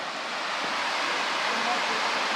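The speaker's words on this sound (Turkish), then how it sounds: "Bir şelale de karşıda var." A waterfall in Tatlıca canyon near Erfelek, Sinop, pours in a constant broad rushing roar heard from across the gorge, steady and full throughout with a hint of voice beneath.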